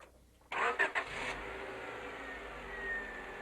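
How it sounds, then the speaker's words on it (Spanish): A car engine cranks briefly and then catches after a fuel injection component is installed, settling into a steady idle with a slight rise in revs. "Encendió el motor"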